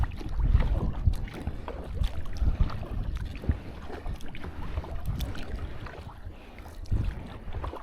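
Kayak paddle blades, wing and euro style, stroke through the water in a low-angle rhythm, with repeated splashes and swishes up close over light wind noise.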